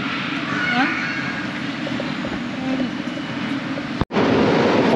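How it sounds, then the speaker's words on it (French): An RER commuter train pulls out of Marne-la-Vallée station, giving a steady loud rolling rumble and hiss close by with voices talking over it, then a brief cutout and a louder, brighter resumption. "On prend le RER."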